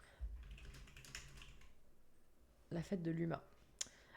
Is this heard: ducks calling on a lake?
no